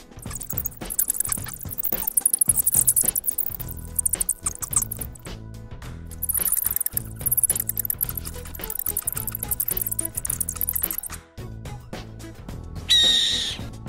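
An owl calls in a steady, repeated series of close, clear notes, with no voices present.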